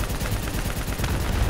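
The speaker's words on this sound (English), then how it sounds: "Well, I can't miss considering this is a mounted turret." A mounted turret in Call of Duty: Black Ops III fires continuously, a fast, steady, heavy stream of shots under a thick wall of game combat noise, with no gaps throughout.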